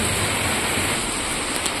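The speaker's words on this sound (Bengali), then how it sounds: "দেখছেন, এই যে বৃষ্টিও হচ্ছে আর এদিকে রোদে রোদ চতুর্দিক।" Steady, even rain falling close by, a continuous hiss with no voices.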